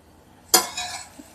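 A lid comes off a pot of tomato rice, followed by a quick burst of light stirring and a faint clink of a spoon against the metal, close and fairly crisp with no talking.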